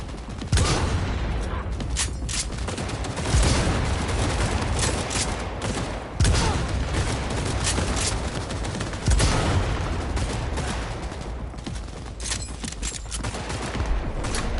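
Sustained rapid gunfire from the video game Cyberpunk, loud bursts of automatic weapons and shots in close succession across the whole stretch, with little letup between volleys.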